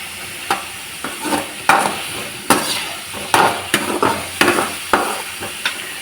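Radish sautéing in a pan for a vegetable mutton curry, a soft sizzle under repeated clattering stirs and scrapes of a utensil against the pan, close and uneven in rhythm, no talking.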